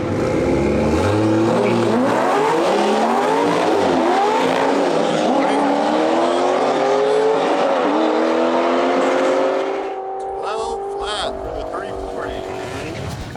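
A rear-wheel-drive BMW F30 340i with a TU pump and flex-fuel MHD tune launches down a drag strip, its engine revving loudly and climbing through several gear shifts before the roar recedes into the distance.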